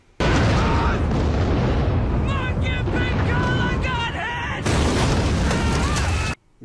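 Artillery shells exploding among trees in a forest during a Band of Brothers war scene, loud continuous roaring blasts and booms close by, with voices talking over the din.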